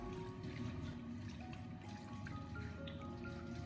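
Scallops being rinsed under running water in a kitchen, a steady trickling and splashing stream with faint clinks of shell fragments, continuous and close, with no talking.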